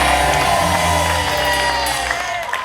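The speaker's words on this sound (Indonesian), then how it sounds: "Ya udah tepuk tangan dong untuk Reborn Community" Studio audience at a Family 100 game show cheering, whooping and applauding for the Reborn Community, a dense steady crowd roar mixed with music.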